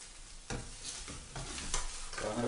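Breakfast food frying in a pan on a hob is flipped and moved about, with close scraping knocks over a constant sizzle that grows slightly louder toward the end, and no talking.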